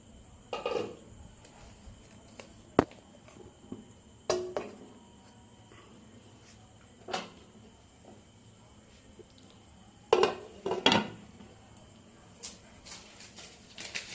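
A cake pan set into a preheated pan on a gas stove, heard as several sharp metallic clinks and clatters spaced apart, close and fairly quiet over a faint steady background.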